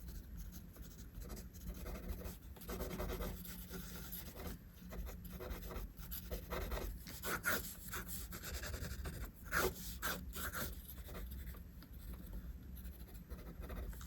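Pencil sketching a face on paper: continuous close scratchy strokes and rubbing, with short rhythmic hatching passes and brief pauses, steady and moderately quiet with no talking.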